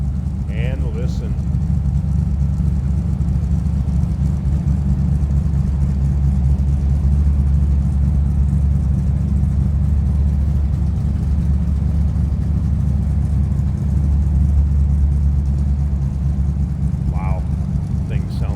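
A numbers-matching 1963 Chevrolet Impala SS 409 with dual 4-barrel carburetors runs with a steady, deep, loud rumble close by, holding a constant roar without clear rev peaks across the stretch.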